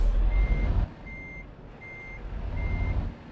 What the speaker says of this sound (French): On met la petite marche arrière.